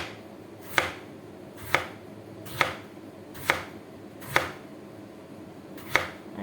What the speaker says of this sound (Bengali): আগে আমি এরকম করে কাইটে নেব